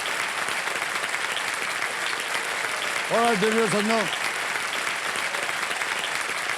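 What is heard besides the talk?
studio audience applause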